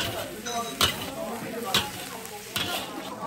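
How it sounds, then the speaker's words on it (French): Ginger, onions and garlic fry in a karahi, a steady sizzle with sharp scraping stirs at regular intervals, close and moderately loud. "dans le caraï, il faut revenir les gingembre et les oignons"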